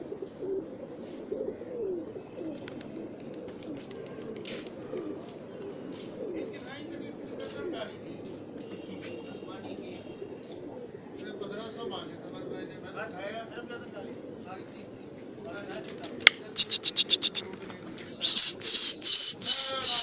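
Fancy pigeons coo in a low, steady murmur beneath a person talking, with a few brief bursts near the end that may be wings flapping.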